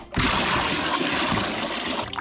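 Water poured into a fish holding tub, a loud continuous gushing and splashing that runs steadily from just after the start to the end.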